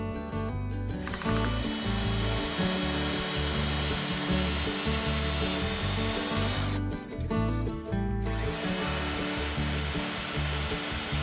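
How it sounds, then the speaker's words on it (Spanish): A drill driver with a wood bit whirs steadily for several seconds boring holes in wood, pauses briefly, then spins up again, loud and close, with a grinding, buzzing tone. "cogemos una broca para madera y, por supuesto, el taladro atornillador, con inserción de broca directa"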